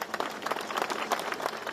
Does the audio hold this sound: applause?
yes